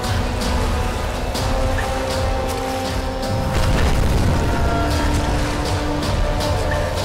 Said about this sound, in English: Dodging big boulders as they come down by the looks of it